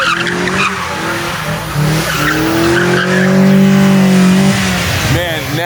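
Burnout in a Honda Civic EG with a B20 engine, close and loud: tires squeal and scrub as the engine bounces off the rev limiter in a sustained wail, dipping near the end, with voices shouting over it.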